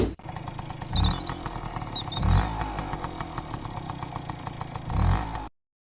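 A motorcycle engine in an animated horror story, running with a steady clattering putter and rising in several surging revs as it rides off, close and loud, then cutting out abruptly.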